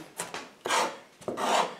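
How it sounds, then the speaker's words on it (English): A chef's knife works through an onion on a cutting board in a few rough, scraping chops and rocking strokes, close and fairly loud with short pauses between. "this time using the knife, the curve of the knife here, stabilizing the blade with your other hand, just a little bit more chopping"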